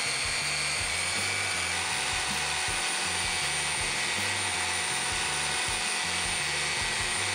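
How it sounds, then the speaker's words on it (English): Belt sander running steadily while 400 grit belt deburrs small metal pieces, a continuous broadband whine with a pulsing low mechanical hum throughout, no talk. "Each piece got deburred with a 400 grit belt."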